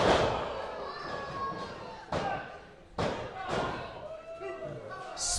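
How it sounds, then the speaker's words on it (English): A wrestler is driven into the mat by a spinning power slam driver at a live wrestling show, giving several heavy thuds and slams over crowd noise and commentary. "Spinning power slam driver there from Crowley."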